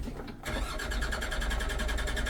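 A tractor engine on a field drilling soybeans restarts and settles into a steady high-RPM run, its buzzing drone loud and close throughout.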